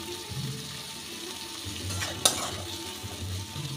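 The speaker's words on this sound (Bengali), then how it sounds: "এবার পেঁয়াজটা ভালো করে ভেজে নেব" Three small onions fry in ghee with a steady, close sizzle while being stirred, broken once by a sharp metallic clink of the spoon against the pan.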